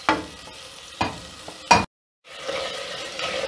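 Spices fry in ghee for a daal tinda curry, a close, steady sizzle with periodic stirring strokes, briefly cut to silence before the frying resumes.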